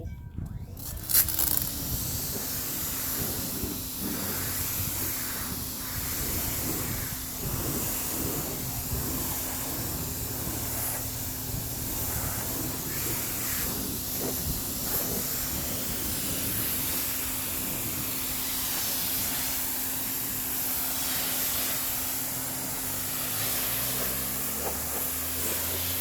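A pressure washer rinses a car, giving a steady loud hiss of spray that runs unbroken throughout with a low hum beneath it.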